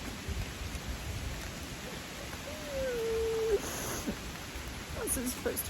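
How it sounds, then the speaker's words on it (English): Steady rain falls on the Appalachian Trail as a dense, even hiss of drops on the surroundings, close and continuous, with a brief faint tonal sound partway through and no talking. "It's raining again."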